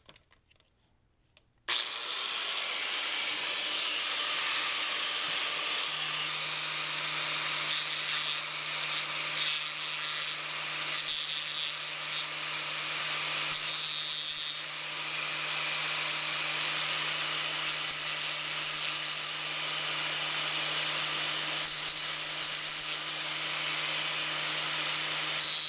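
Power tool grinds steadily to bevel the cut edge of a stud from a VW/Audi 2.0T FSI high-pressure fuel pump stud kit, starting abruptly after a brief quiet moment and holding a constant high-pitched whine for about 25 seconds.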